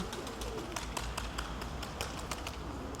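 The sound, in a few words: pigeons cooing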